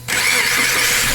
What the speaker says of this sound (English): I want you to start it up.